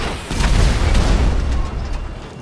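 A single heavy RPG rocket explosion in GTA 5 booms loudly with a deep rumble, then fades over a couple of seconds.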